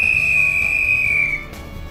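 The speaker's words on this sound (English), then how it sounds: "We just got the whistle from the lock master." A lock master's whistle at a canal lock gives one long, loud, steady shrill blast lasting over a second before cutting off, with a low motor hum underneath.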